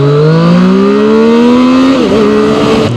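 Zontes 703RR motorcycle accelerating under a rider: a loud, close engine note climbing steadily in pitch, then a brief dip as it shifts and pulls again; no speech.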